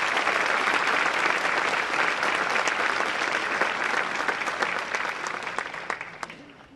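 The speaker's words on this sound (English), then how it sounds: "Let's give him another big round of applause." Sustained applause from a concert-hall audience at a community music hall of fame ceremony, a dense steady clapping that fades gradually toward the end.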